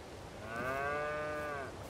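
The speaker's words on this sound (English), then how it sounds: "there's our first seven cows in the pasture." Dairy cows in the Farming Simulator 22 video game give a single long, loud moo in a pasture, rising and holding steady for over a second, with no speech over it.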